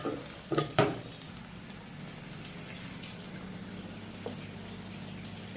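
Chopped flat beans and green chilies fry in a pan with a steady, faint sizzle, broken early on by a few sharp stirring knocks and a later soft clink.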